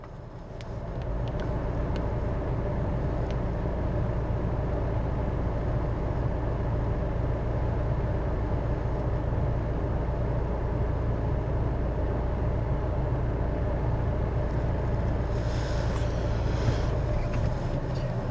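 Jeep Compass engine idling with reverse gear engaged, heard from inside the vehicle as a steady, loud, low droning hum and vibration that holds evenly throughout with no talking.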